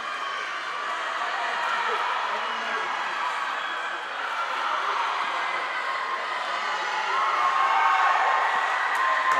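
Teammates cheer on swimmers at an indoor high school swim meet between Audubon and Sterling, a continuous echoing wash of crowd noise and shouting that swells slightly toward the end.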